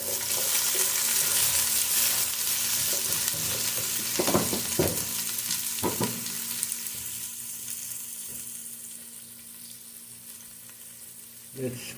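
Red onions sauté in a pan while a sea mullet tomato stew is being cooked, with a steady bright sizzle that slowly quietens, broken by a few clattering stirs and clinks from a utensil.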